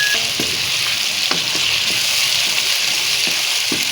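Potato, pea and onion masala fries in a pan with a steady, loud, dense sizzle throughout, broken by a few soft stirring knocks, with no talking.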